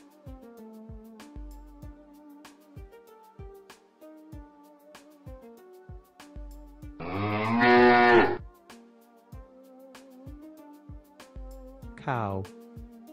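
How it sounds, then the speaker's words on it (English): A cow lets out one long, loud moo, followed by a shorter second moo near the end, both standing out over a soft plucked musical backing. "Cow."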